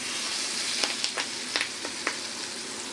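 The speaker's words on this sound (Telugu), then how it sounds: "మన ఉసిరికాయ ఎండు ద్రాక్ష పచ్చళ్ళలో మన తాలింపుని కలిపేసుకుందాం" Hot tempering poured into an amla and raisin pickle gives a steady soft sizzling hiss with a few scattered sharp crackles, close and fairly quiet.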